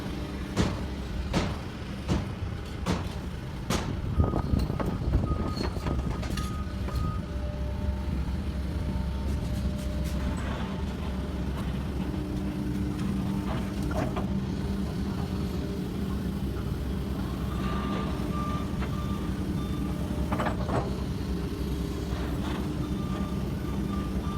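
A heavy truck engine idles and rumbles nearby during sidewalk roadwork, loading soil, with intermittent reversing beeps and clanking work noises over a steady low drone.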